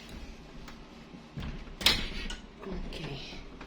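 A door being closed indoors, with a soft slide and a sharp latching knock midway, followed by faint rustling.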